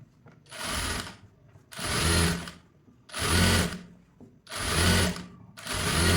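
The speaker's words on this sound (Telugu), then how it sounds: "ఇలా టాప్ స్టిచ్ ఒకటి వేసేసుకుంటే మీకు ఈజీగా ఉంటుంది చేయడానికి" Domestic sewing machine top-stitching a blouse runs in five steady bursts, each a loud, even mechanical whir lasting about a second, separated by short pauses.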